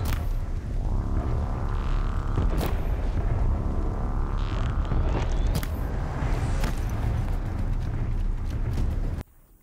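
Heavy, deep thudding of a Tallneck machine nearby in Horizon Zero Dawn, booming impacts recurring over a loud rumbling game soundscape, cutting off abruptly at the end.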